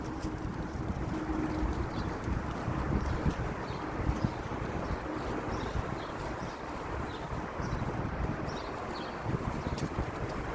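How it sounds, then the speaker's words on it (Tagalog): Steady wind rushes and buffets against the microphone throughout, a continuous rough roar without speech. "Masarap, may hangin."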